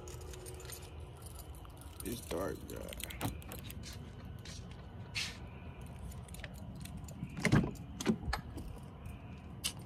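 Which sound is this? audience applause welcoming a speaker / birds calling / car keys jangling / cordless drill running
car keys jangling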